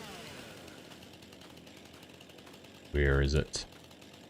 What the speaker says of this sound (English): running through with chainsaw out like this